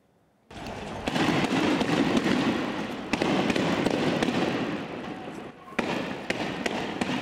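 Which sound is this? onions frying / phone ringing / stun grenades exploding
stun grenades exploding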